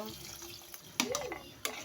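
Water runs and splashes into a pan while chicken tinola is being cooked, a close, uneven pour with a few sharp clatters and a faint tonal sweep.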